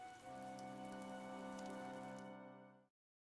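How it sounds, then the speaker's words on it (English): Heavy rain in the video game Fire Emblem Three Houses, a steady loud hiss of downpour layered over a droning sustained tone, running evenly before cutting off abruptly near the end. "The rain is really coming down now."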